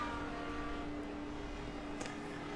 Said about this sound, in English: Look at the cars coming off of pit lane.